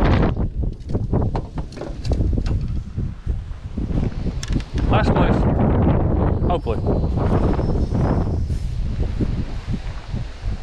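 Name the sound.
wind blowing outdoors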